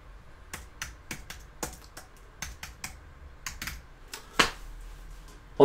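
Typing on a computer keyboard into a text box on a Mac, a quiet close run of separate key clicks in an irregular rhythm, with a louder tap near the end.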